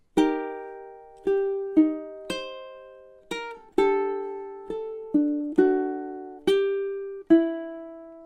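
A ukulele plays a short melody of about a dozen notes from a song. Each note rings briefly and decays at an unhurried pace.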